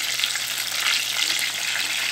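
Whole eggplant, stems still on, sizzles steadily in hot oil, a dense, even crackle that stays constant and close throughout.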